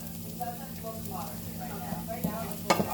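Garlic sizzles in a hot pan with a steady, close frying hiss, broken by a few louder scrapes and clinks of stirring near the end.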